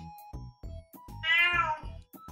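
A cat meows repeatedly inside the Minecraft video game, several short in-game mewing calls in a loose rhythm with one longer, louder cry in the middle, clear and up close with no talk over it.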